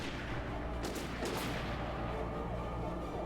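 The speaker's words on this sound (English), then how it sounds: "Stop shooting at me, fools." Steady, dense gunfire from the Alan Wake video game stays loud for the whole stretch, swelling into a few sharper bursts near the middle, with no talking.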